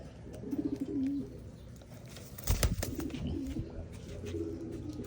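Pigeons cooing during recall training, with soft repeated coos near and at a moderate distance and a brief burst of louder fluttering or movement in the middle.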